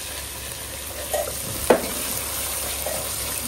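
Hung curd is stirred into a hot pan, producing a soft, constant sizzle with a few scraping spoon strokes and one sharp clack near the middle, close by and without talk.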